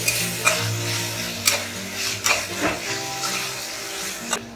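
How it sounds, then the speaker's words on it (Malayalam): Brinjal being stirred into masala in a pan, soft scraping and clinking of the spoon against the pan in uneven strokes over a quiet sizzle, close and moderately loud. "നല്ലപോലെ ബ്രിഞ്ചോൾ മിക്സ് ചെയ്ത് കൊടുത്തിട്ടുണ്ട്"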